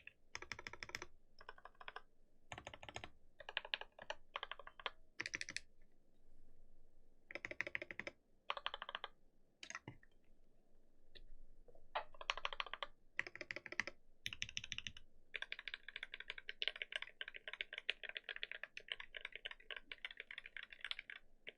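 Typing on a NovelKeys NK87 aluminum keyboard with an FR4 plate: bursts of rapid, close key clacks alone, pausing briefly between runs before a longer steady stretch of typing.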